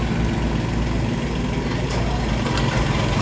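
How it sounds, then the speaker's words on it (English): Sage Oil Vac pump pulling about two quarts of engine oil from a car into a used oil tank: a loud, steady low mechanical drone with constant rumble and no talk. "we're vacuuming out that 2 quarts into the used oil tank"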